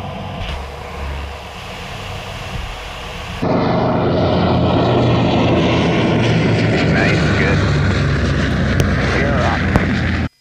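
Aircraft engine drone continues steadily through a landing gear extension during a hydraulic test flight pass, the sound jumping louder partway through, with faint talk near the start.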